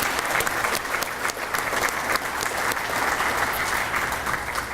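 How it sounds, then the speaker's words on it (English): Audience applause at a retiree reception, a steady crowd clapping for the nutrition services department, dense and even for the full length with no talk over it. "Let's give them a round of applause here this evening"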